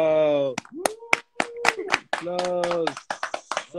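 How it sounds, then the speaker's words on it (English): A few sharp hand claps break in between a woman's sustained singing-like voice, close and fairly loud, with talking around them on an Instagram live stream. "Applause."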